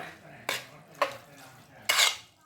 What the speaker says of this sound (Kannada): ಗಟ್ಟಿ ಮೊಸರು ಹಾಕ್ಕೊತಾ ಇದ್ದೀವಿ ಈಗ ಮಿಕ್ಸ್ ಮಾಡ್ಕೊಂಬಿಡೋಣ